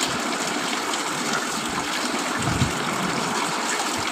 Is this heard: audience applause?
no